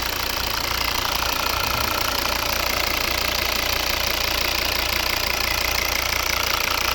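A 2011 Volvo V60 2.0 D4 five-cylinder diesel with automatic transmission idles close by with a steady, rough rhythmic clatter and constant low rumble, no voices.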